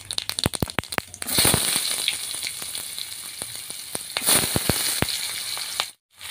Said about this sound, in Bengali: পেঁয়াজটাকে আমি সুন্দরভাবে ভেজে নিয়েছি